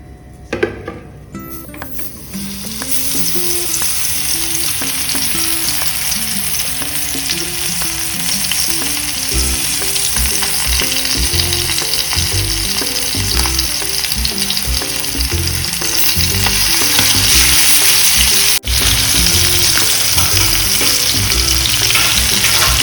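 Rava-coated stuffed mackerel frying in hot oil in a pan, a loud, continuous close sizzle and crackle that grows slightly stronger over time, with a few faint clinks.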